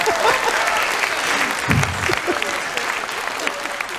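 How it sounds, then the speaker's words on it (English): Audience applause in a theatre during a stand-up comedy show, a dense burst of clapping from a crowd that rises and carries on steadily, with no voices over it. "I get an applause break for just making my own food"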